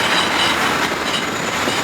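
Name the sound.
trains or trams passing near a bridge in Warsaw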